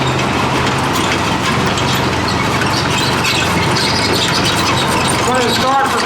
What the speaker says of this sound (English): This is the M18 Hellcat.